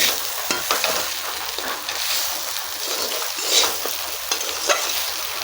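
Spices for a Bengali vegetarian paneer and potato curry fry and sizzle in a pan with steady crackle, broken by repeated scraping stirs throughout.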